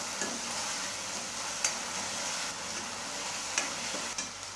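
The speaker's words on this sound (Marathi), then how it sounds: "आता आपल्याला याला छान असं तळून द्यायचं आहे अगदी तेल फुटेपर्यंत आपण मसाला हा भाजून घेणार आहोत" Masala frying in oil for a spicy aloo-gobi bhaji makes a dense, even sizzle up close, with a few faint clicks of a stirring spoon and no talking.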